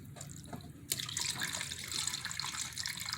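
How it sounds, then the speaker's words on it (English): Water pours steadily into a pot of birria meat, a sudden rush that starts after a brief pause and continues as a bright, close splashing stream without any talk. "All I gotta do now is put water in it."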